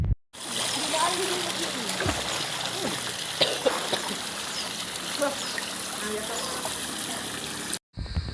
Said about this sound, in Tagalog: Nakaka-relax din talaga yung tunog ng tubig.